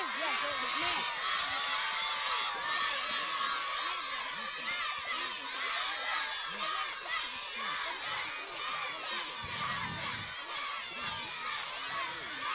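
A children's audience at a school knowledge quiz cheers and shouts steadily, a dense crowd of young voices with an adult presenter talking over the noise.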